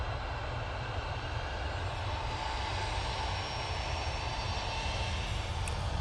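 A Ryanair jet airliner departs Manchester Airport bound for Rabat, its engines giving a steady, broad roar that holds loud and unbroken throughout, with no talk over it.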